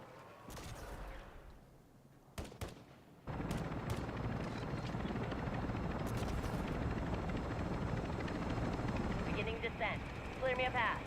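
A military helicopter setting down at a landing zone in a shooter video game, its rotor roar rising abruptly and staying loud after a few sharp gunshot-like bursts, with talk over it.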